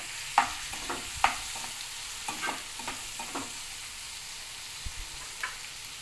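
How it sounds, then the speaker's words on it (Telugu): Tomato pieces sizzle in a frying pan for a fenugreek-leaf curry, a steady close hiss punctuated by a few sharp clinks and scrapes of stirring, without any talking. "టమాటా ముక్కలు, ఒక 3 టమాటాలు వేసిన"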